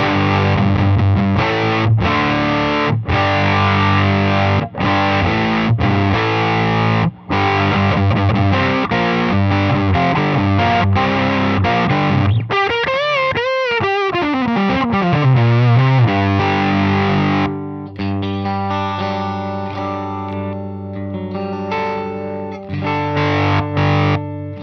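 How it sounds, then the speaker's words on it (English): Guitar played through a Dunlop FFM2 mini germanium Fuzz Face pedal, giving a dark, woolly fuzz on chords and riffs, then a bending, sliding lead line and sustained distorted notes, loud and close with no talk. "you're going to get a traditional Fuzz Face sound that's dark and woolly"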